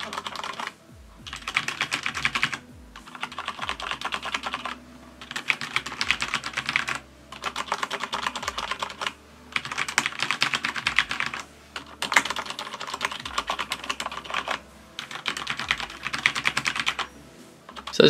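Fast typing on a Corsair K95 RGB mechanical keyboard fitted with O-rings, a dense, softened clatter of keystrokes in bursts of a few seconds separated by short pauses.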